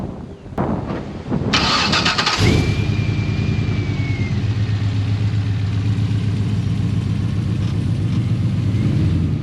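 A car engine cranks and catches at a workshop, settling into a loud, steady idle with a faint whine rising briefly after the start, no talk.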